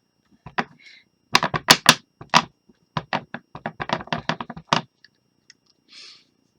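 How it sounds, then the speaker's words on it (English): Rubber stamp pressed repeatedly onto scrap paper while stamping yellow leaves onto trees, a quick irregular series of close, crisp taps and thumps, some in rapid clusters, with a soft papery rustle near the end. "I went ahead and I stamped in the yellow first."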